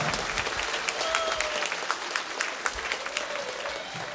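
Audience applause at a Russia Day concert, a dense steady wash of many hands clapping throughout, loud and sustained with scattered sharper claps standing out.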